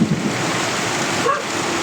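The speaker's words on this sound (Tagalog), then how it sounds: "Biglang bumuhos ang malakas na ulan." Heavy rain pours down in a dense, constant roar, loud and close, with no breaks.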